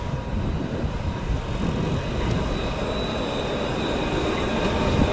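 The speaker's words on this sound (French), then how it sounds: "c'est les tramways qui se sont mis en route." Trams set off across the Pont Raymond Barre in Lyon, a steady, dense rumbling drone that stays even throughout, heard from nearby with no talking.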